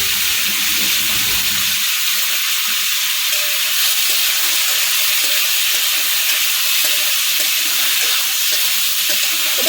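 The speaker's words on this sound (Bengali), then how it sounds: "চিংড়িটাকে একটু হালকা করে আগে ভেজে নেব" Prawns frying lightly in hot oil in a pan on a lowered gas flame, a loud steady sizzle with hissing spatter that holds at constant intensity throughout, close and without talk.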